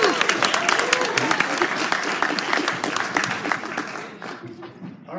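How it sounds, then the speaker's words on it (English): An audience at a documentary screening applauds in a dense burst of clapping that fades toward the end, with some crowd noise mixed in. "Another round of applause."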